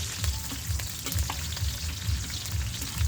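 Igado sizzling and frying in a pan, a steady crackle with rhythmic stirring strokes scraping the pan about every half second, close and even, no talking.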